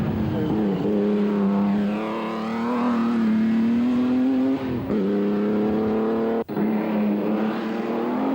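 An ERA R8C racing car with independent front suspension climbs a hill-climb course, its engine note rising in a loud, sustained drone that sweeps up and down close by, with a brief sharp cutout near the end before the roar resumes.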